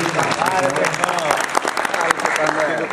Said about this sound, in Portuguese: Dá uma salva de palmas para Carmelo de Castro